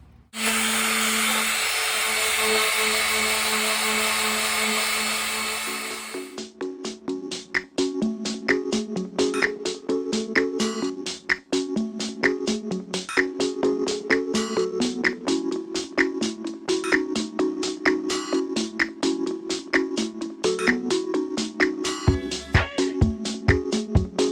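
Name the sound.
sanding a 3D printed PLA helmet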